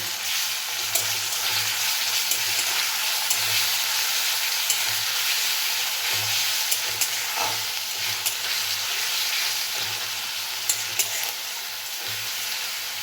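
Garlic and ginger paste, with ground onion, frying in a pan for a chickpea curry, giving a steady loud sizzle with occasional stirring clicks and scrapes throughout, no voices.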